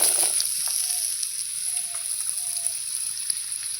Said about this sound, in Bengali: এবার আমি এটা এই আলুটা দিয়ে দেবো তেলের মধ্যে